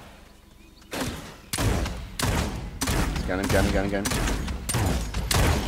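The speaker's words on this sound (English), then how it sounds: "Oh, I'm being shot at." Rapid bursts of gunfire in the battle royale game Realm Royale Reforged, loud and close, repeating in quick volleys after a quiet start, with a voice speaking briefly between the shots.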